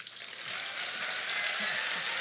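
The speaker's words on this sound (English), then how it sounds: "Please give him a round of applause." An audience at a South Carolina college applauds for a guest, producing a brief, steady hiss of many hands clapping at moderate volume, with no voices over it.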